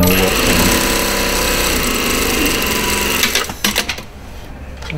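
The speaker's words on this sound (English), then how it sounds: "now I'll just I'll overlock this seam and I'll overlock around the hem" An overlocker sews the underarm seam of a short sleeve, running as a loud, continuous close-up mechanical whir that stops near the end, leaving a few brief clicks and handling sounds.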